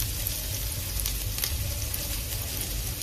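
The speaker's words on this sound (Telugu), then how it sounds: "ఫ్రై చేసుకుని ఆనియన్స్ అన్ని రెడ్ కలర్ లా వచ్చేదాకా చక్కగా ఫ్రై చేసుకోవాలండి." Onions fry in hot oil in a pan with a steady, dense crackling sizzle that holds evenly throughout, close and moderately loud, with no voices.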